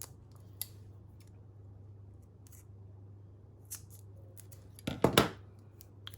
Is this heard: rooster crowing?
no